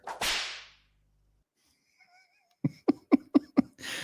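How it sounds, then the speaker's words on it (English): A whip crack sound effect on a football postgame show: one sharp swishing crack up front, then quiet, faint tones and a run of rapid snappy hits at the end. "I'm sending you off with a whip crack."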